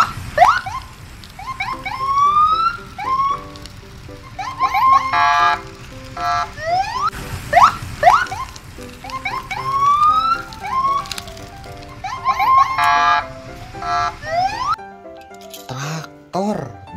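A toy police siren wails in repeated rising electronic sweeps, loud and close, with a jingly tune mixed in before it cuts off near the end.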